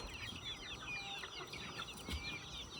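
Farm chickens clucking softly and continuously, several birds close by with busy overlapping calls over a quiet outdoor background, no talking.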